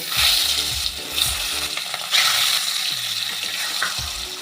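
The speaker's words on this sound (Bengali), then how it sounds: "এবার এর মধ্যে অল্প লবণ ছিটিয়ে মাছগুলো আমি ভেজে নেব" Rohu fish frying in hot mustard oil with a sprinkle of salt: a loud, steady sizzle runs throughout, broken by occasional clinks and low knocks of the pan.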